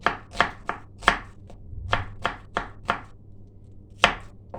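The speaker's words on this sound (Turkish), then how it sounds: "Jülyen jülyen doğrayacağız şu şekil." Steady knife chopping of onions into julienne strips on a cutting board, about a dozen quick sharp strikes in an uneven rhythm, close up with no talking.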